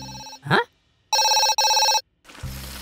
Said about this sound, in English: I just need to answer the phone